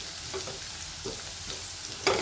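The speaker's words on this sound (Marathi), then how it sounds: "हे असं कलर बदलेपर्यंतच आपल्याला लसूण परतून घ्यायचं" Garlic sizzles in hot oil in a pan, stirred until it changes colour, a steady close crackle with faint scrapes of a spoon and a brighter burst of sizzle near the end.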